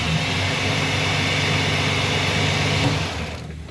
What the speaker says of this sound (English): Yeah, it's like it's stumbling on startup.